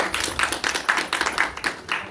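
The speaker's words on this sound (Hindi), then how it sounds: "तो तालियां कीजिए" A small audience applauds at a training and awareness session on setting up self-employment, steady clapping at close range with no voices over it.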